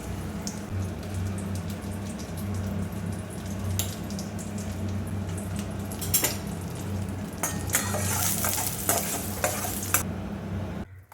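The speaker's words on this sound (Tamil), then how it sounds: "நெய்யில் வந்து திராட்சை பழம் பழம் பேரிச்சம்பழம்லாம் போட்டு வறுத்துக்கலாம்" Raisins and dates frying in hot ghee in a pan, a steady crackling sizzle with occasional stirring scrapes and clinks of a utensil against the pot, close and continuous.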